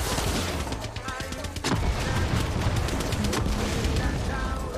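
Dense gunfire in Far Cry 6 co-op play, a loud, continuous barrage of shots and booms with sharp bursts, sustained throughout under a busy game mix.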